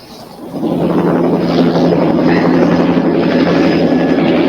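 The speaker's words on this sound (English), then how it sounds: "20 kilometres away, the chopper takes off." A military helicopter takes off in the bush during SAS selection. A loud, steady rotor and engine roar swells quickly in the first half-second and then holds, with wind buffeting throughout.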